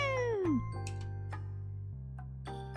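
A person imitates a cat's meow with a voice sliding downward, followed by a drawn-out mewing tone, alone and close up.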